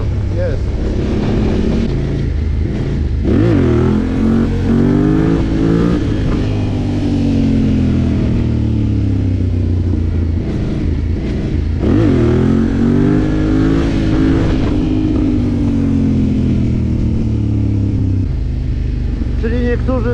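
A Honda Dominator motorcycle fitted with an FMF exhaust revs hard and repeatedly, the engine rising and falling in loud surging pulls for a long stretch, heard close with someone talking over it.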